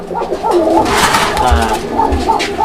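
Fancy pigeons in a coop coo repeatedly, close and loud, with soft rolling calls overlapping amid faint fluttering and background bustle.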